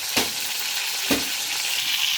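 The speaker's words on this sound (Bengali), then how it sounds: "এগুলো ভালো করে ভাজতে হবে" Steady hissing sizzle of chicken frying in a pan, close and continuous, with a couple of soft stirring scrapes.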